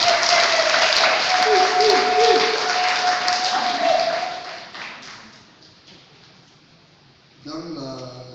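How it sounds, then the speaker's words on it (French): Audience applause at a live event, a dense loud wash of clapping that fades out over several seconds before a voice begins speaking. "Veuillez applaudir pour elle, s'il vous plaît."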